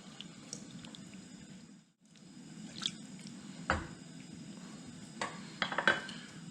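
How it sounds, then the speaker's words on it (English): Lemon juice and rice stirred into a pot of sweet and sour cabbage and tomato soup, giving soft wet squishing and faint liquid drips close by. A brief pause comes early on. "We're going to stir this all together."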